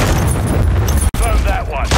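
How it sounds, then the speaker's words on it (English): Cruise missile strike in the video game Warzone: a dense, continuous low rumble of explosions and impacts with a brief dropout midway, under overlapping voices. "friendly cruise missile deployed"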